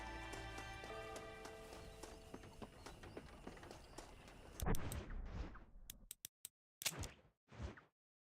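Horse hooves clip-clopping at a run in the Red Dead Redemption video game, a dense rhythmic patter over game background sound for several seconds, then breaking into a few separate bursts and thumps before falling silent.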